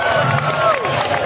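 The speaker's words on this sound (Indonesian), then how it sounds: "Tepuk tangan yang keras dulu untuk BRI Gunung Sitoli." An audience at a stand-up comedy show in Gunungsitoli, Nias, claps and cheers steadily, a dense continuous wash of applause with shouting voices throughout the short stretch.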